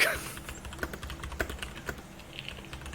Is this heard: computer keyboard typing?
yes